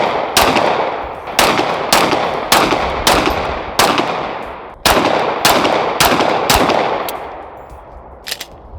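Rapid pistol shots from a Lone Wolf Arms Timberwolf 19X at an outdoor range, about a dozen loud sharp cracks in quick irregular succession, each with a short ringing tail, and one fainter pop near the end.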